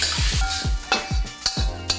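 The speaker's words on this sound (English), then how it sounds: "I'm just going to like move the oil around." Oil is pushed around a hot pan in a home kitchen, making quick, rhythmic scraping strokes over a steady sizzle, loud and close with no voices.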